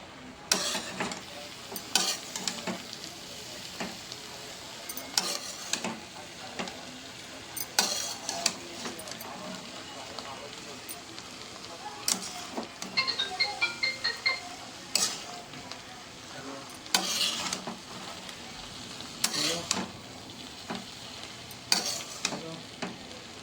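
A spatula scrapes and clatters in repeated bursts against a pan while paneer rice with coriander and mint is stirred over a low sizzle, close and fairly quiet.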